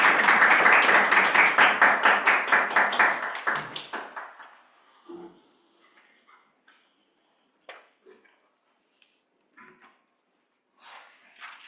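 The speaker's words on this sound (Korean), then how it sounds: "박수로 맞이하겠습니다." A church congregation welcomes a woman elder to the pulpit with brisk, dense applause for about four seconds. It fades out into near silence, broken only by faint rustles and a few quiet voices.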